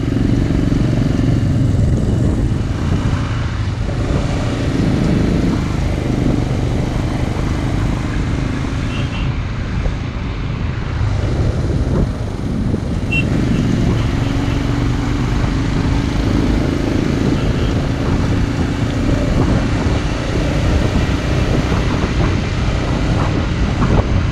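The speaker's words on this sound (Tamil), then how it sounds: "பாருங்க நம்ம பைக்கர்ஸ் போகிறது அழகாக சூப்பராக இருக்குது பாருங்க" Loud, continuous engine roar of motorcycles rumbling past on the road to Khardung La pass, Ladakh, steady and close, with rushing wind across the microphone throughout.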